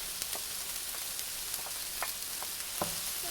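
Chopped tofu frying in a pan with peas, carrots and corn gives a steady, quiet sizzle with a few faint crackles and stirring clicks, with no voices.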